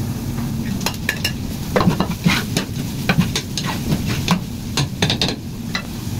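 Tomatoes tipped into a sizzling pan of salmon sinigang, with steady frying hiss and quick clicks and scrapes of a utensil stirring throughout, close and moderately loud, no talking.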